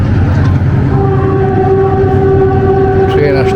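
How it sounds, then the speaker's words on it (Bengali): A train approaches Nine Arch Bridge in Ella, Sri Lanka, its sustained horn-like tone holding steady over a loud, constant rumble all the way through. "মনে হচ্ছে ট্রেন আসতেছে।"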